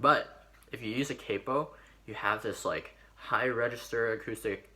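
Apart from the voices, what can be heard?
No distinct noise like a dog, phone or traffic.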